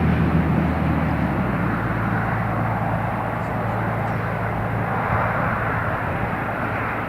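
An Italian Air Force C-27J transport aircraft lands at Newcastle International Airport, its engine noise a loud, continuous roar that holds steady throughout.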